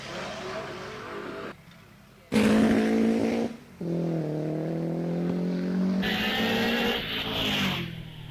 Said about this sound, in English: But look at this lovely Napier. I think built from a big Napier touring car.